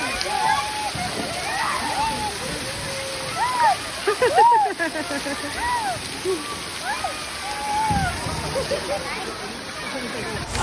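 People jump and splash into water at Campuestohan, with repeated splashes under constant lively chatter, shouting and crowd noise around a pool.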